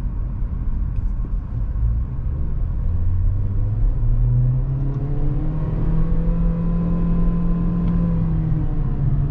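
Ford Territory Titanium 2021 SUV with a 1.5 turbo engine and CVT gearbox accelerating on the road, a steady close engine drone rising gradually in pitch under constant road rumble, with no talk.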